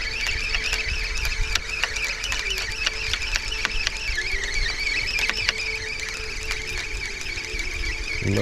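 Electronic beeping tones from a fishing bite alarm, rapid chirps repeating over a steady outdoor hiss, close and fairly loud, no voices.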